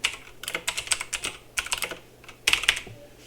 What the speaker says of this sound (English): So I'm gonna type all caps.